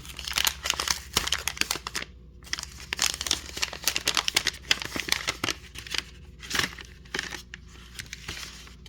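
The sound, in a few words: Digimon card pack wrapper tearing and crinkling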